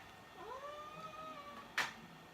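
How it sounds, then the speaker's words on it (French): A cat gives a drawn-out, rising meow against a quiet room, followed by a brief sharp noise. "Alors si vous avez entendu un bruit, c'est mon chat."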